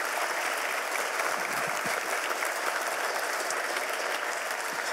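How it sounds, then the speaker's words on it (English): Steady applause fills a conference hall after a morning plenary session at the World Conference of Science Journalists 2013, dense and even from start to finish with no voices over it. "Let's give a great applause."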